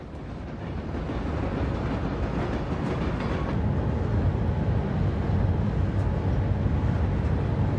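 A steady low rumble of freight train cars rolling along the tracks by Mill Creek in Cincinnati, continuous and fairly loud with faint rattling on top.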